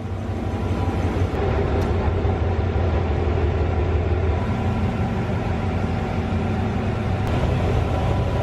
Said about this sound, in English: look at this for the train then